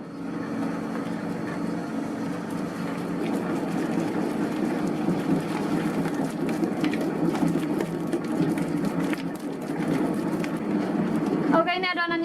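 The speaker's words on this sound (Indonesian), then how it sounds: "Oke, saya nyalakan mesinnya, kita adon sampai betul-betul kalis." Electric dough mixer kneading bread dough for soft sausage rolls, a steady continuous motor hum and churning drone that holds evenly throughout, with a brief higher rising tone near the end.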